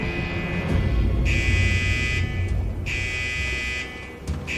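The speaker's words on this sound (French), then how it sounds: "C'est l'alarme incendie du quartier Psy." A fire alarm sounds in two long, harsh buzzing blasts separated by a short gap, over a constant noisy background.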